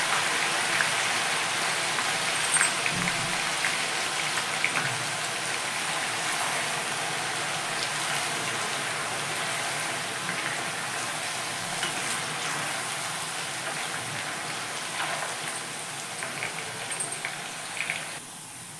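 Washed grated potato shreds sizzle in hot oil on a low flame, a steady crackling fry with scattered pops and occasional stirring noises, close and continuous.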